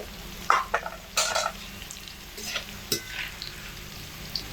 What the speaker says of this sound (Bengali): ডাটাগুলো তিন থেকে সাড়ে তিন মিনিট সময় ধরে মিডিয়াম আছে তেলের মধ্যে রেখে ভাজা হয়ে গেছে